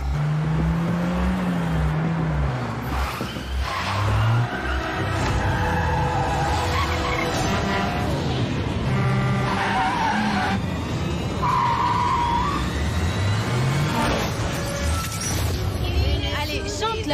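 Car speeding up with tires skidding and squealing, engine tones rising and falling over continuous road noise, with music and voices mixed in throughout.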